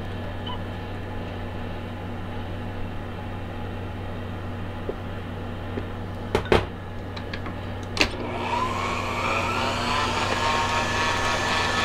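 An electric stand mixer whirs steadily while beating sweet potato pie filling until smooth, a continuous motor hum with a couple of brief clicks midway and the tone shifting slightly near the end.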